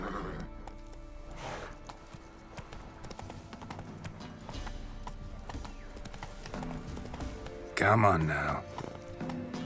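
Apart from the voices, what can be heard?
horse Roach galloping in video game The Witcher 3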